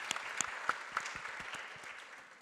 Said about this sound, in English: We can give Nelson a round of applause for that.